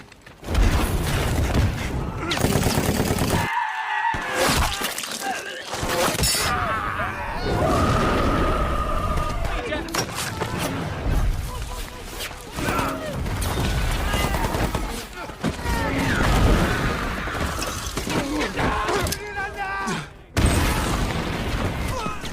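Gunfire and grenade explosions in a war-film battle scene: dense, loud bursts of shots and booms run almost nonstop, with brief dips between volleys.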